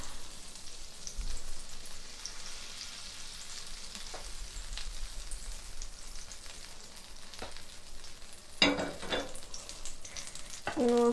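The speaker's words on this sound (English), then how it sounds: "And we'll throw in our ginger. And let's stir it." Ginger frying in butter in a pan while being stirred, a steady sizzle with scraping stir strokes and a few louder clatters near the end.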